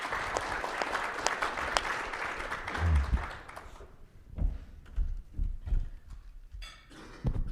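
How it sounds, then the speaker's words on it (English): An audience applauds a panel at a public forum on Maine and Arizona political issues, a dense burst of clapping for the first few seconds that quickly thins into scattered claps and background shuffling. "let's join me in a round of applause for our panel"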